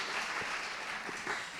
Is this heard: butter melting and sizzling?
no